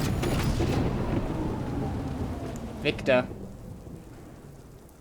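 Steady rain hisses in the video game Death Stranding, with a low thunder rumble rolling underneath and a brief mechanical clatter near the end as someone speaks briefly.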